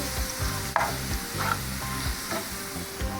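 Onions and tempering spices fry in oil for a daal mash tadka, giving a loud continuous sizzle with a stirring clack now and then.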